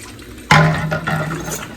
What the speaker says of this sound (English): the next thing you want to do is add some water to your bowl